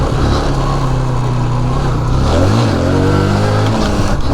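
A motorcycle engine rumbles close by and rises and falls as the rider revs it, a loud continuous roar with no talking.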